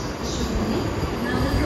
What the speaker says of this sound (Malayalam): വന്ദേ ഭാരത് ഇതാ വന്നുകൊണ്ടിരിക്കുകയാണ്